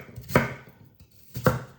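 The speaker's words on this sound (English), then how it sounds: "So we're going to be chopping these into little kind of appley chunks." A knife chops apples into chunks for apple pie, two crisp, close cuts against a board about a second apart, with no talk.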